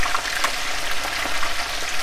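Appetizer pieces frying in hot oil in a pan, a loud dense crackling sizzle continuing steadily throughout with no voices.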